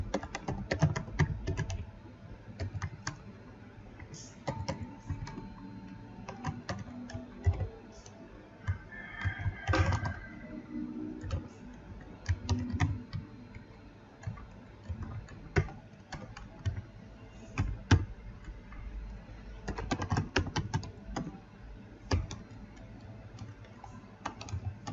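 Someone types on a computer keyboard while writing code, producing continuous irregular bursts of close key clicks and taps with brief pauses between runs.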